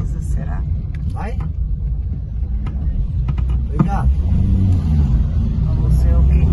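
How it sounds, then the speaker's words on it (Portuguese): A large truck rumbles closer along a rural road, its low engine drone building steadily and growing louder toward the end, with people talking over it. "Porque tá vindo um caminhão grande."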